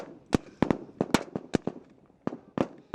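Gunfire in a military video game, with sharp cracking shots in an irregular rhythm, some in quick pairs, fairly close and loud.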